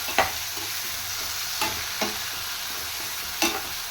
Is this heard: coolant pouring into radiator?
no